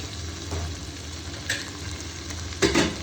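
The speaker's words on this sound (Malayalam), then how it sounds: "ഷവായ ഏകദേശം റെഡി ആയിട്ടുണ്ടെങ്കിൽ ലാസ്റ്റ് ഉണ്ടെങ്കിൽ കുറച്ച് കാഷ്നട്ടിൻ്റെ പേസ്റ്റ് ഒഴിക്കണം" Cashew paste is poured into sizzling chicken shawai masala in a pan, giving a steady close frying sizzle with a couple of brief stirring bursts and no voices.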